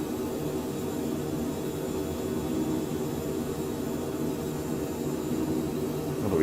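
Cessna Citation Mustang jet accelerating down the runway for takeoff in Microsoft Flight Simulator 2020, a steady, dense engine roar and rushing hiss holding constant and loud throughout.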